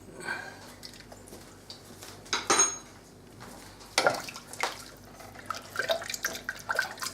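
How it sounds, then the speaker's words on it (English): Spoon clinking and scraping in a pan while a mustard and milk sauce is stirred, a few sharp metallic knocks and soft scrapes at close range over quiet background. "and just stir that through"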